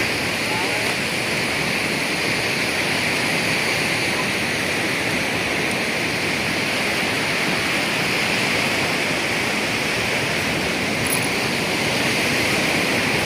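Big sea waves surge and wash in a continuous loud roar of surf, heard from out on the open water with no clear voices.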